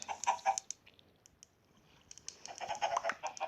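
Minecraft chickens cluck in short, quick bursts, fading to near quiet in the middle before the clucking picks up again, fairly soft overall.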